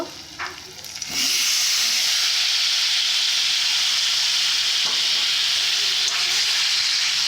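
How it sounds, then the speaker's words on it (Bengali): Bottle gourd dropped into hot oil with spices erupts into a sudden loud sizzle after a second of quieter kitchen sounds, then keeps hissing strongly and evenly as the pieces fry. "মশলা তেল ছেড়ে গেছে এবার আমি লাউগুলো দেব"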